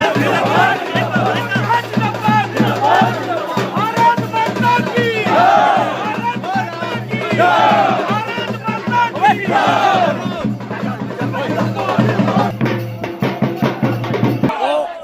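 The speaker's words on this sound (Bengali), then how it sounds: "দেখেন কাটিগড়া উন্নয়ন কেন্দ্রে এসে কিভাবে বিজেপির স্লোগান দেওয়া হচ্ছে" A large crowd at the Katigora development office chants BJP party slogans loudly and continuously in rhythmic, rising-and-falling waves, with a steady low hum beneath and a few shouted voices standing out.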